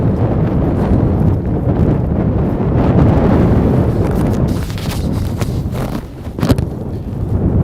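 Strong wind buffets an outdoor microphone on a city street in Washington, D.C., a loud continuous low rumble that surges and eases, with a brief dip and sharper gusts near the end.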